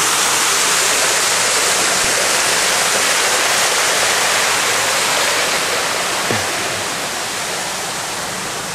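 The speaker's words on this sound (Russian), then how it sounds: "По таких всевозможных водопадиков тут большое количество." Small decorative waterfalls in the pool area of a Turkish hotel in Side, giving a loud, steady, close rush of falling water that continues without a break.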